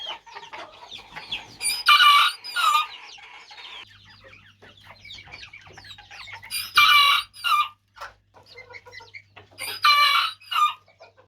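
A young Serama rooster, about three months old, crows loudly three times at even intervals, with clucking and softer chicken calls between, close up and without talk.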